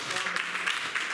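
Church congregation applauding and cheering together, a dense, steady wash of clapping that fills the space at close range.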